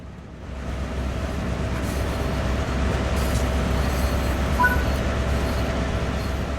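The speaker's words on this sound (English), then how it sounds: "It's time to get moving. Increase the throttle to start moving." A GP38-2 diesel locomotive in Train Sim World 5 pulls away from a stop, its steady engine drone and rolling wagon rumble building gently and holding loud and close throughout.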